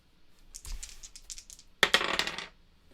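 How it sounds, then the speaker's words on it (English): Two dice for the Dice of Arkham board game rattle briefly in a hand, then clatter sharply across a table in a close, loud burst of hard clicks that quickly settles. "Let's roll 2 dice."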